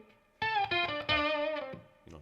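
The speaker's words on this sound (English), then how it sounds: "You could throw it in for some kind of light octave distortion" Electric guitar through a Roger Mayer Classic Octavia octave distortion pedal plays a few sustained, buzzy notes with a thick, fuzzy edge, ending with a short plucked note after a brief pause.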